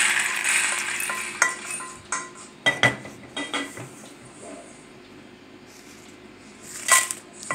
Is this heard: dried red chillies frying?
yes